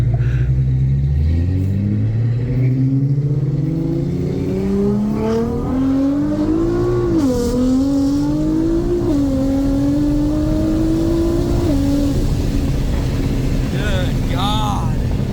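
Nissan GTR R35 engine revving and rising through the rev range during spirited driving, with a loud rumbling tone climbing steadily, dipping briefly and climbing again, heard from inside the car with people talking over it.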